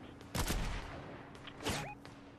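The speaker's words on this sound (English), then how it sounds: "There's another team shooting at us" An opposing team fires on a squad in Fortnite: two sharp bursts of distant gunshots ring out over a steady background hum.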